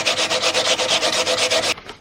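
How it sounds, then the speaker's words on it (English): Rapid back-and-forth scratchy strokes of 220-grit sandpaper rubbing on a wooden desk, evenly rhythmic and close, stopping abruptly near the end. "Could use some sanding."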